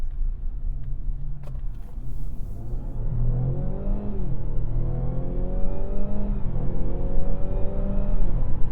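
A Mazda CX-60 plug-in hybrid, with its engine and electric motor both at full power, accelerates hard from inside the cabin, the engine note climbing through rising gear sweeps, each dropping back at a shift, loud and steady with no talk.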